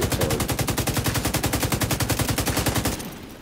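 Rapid automatic gunfire in The Division 2 during PvP play in the Dark Zone, a loud, steady stream of evenly spaced shots that runs without a break for about three seconds and then cuts off abruptly.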